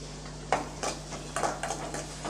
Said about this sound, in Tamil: கொஞ்சம் வதக்கி விட்டுக்கலாம்.